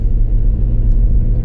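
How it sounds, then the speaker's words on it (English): Autobahn traffic starts rolling again after an accident, giving a loud, steady low rumble of car engines close by with a brief higher rise partway through. "The fucking traffic's moving again"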